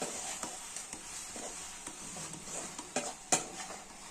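Okra pieces being flipped and stirred in a frying pan while browning, with a soft sizzle under repeated clicks and scrapes of the spatula against the pan and a sharper knock near the end.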